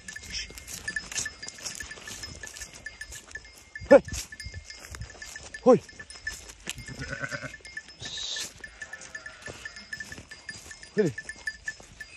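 Sheep and lambs bleating outdoors, several separate cries rising and falling across the scene, fairly close, mixed with a man's short calls and shouts and a faint ringing tone in the background.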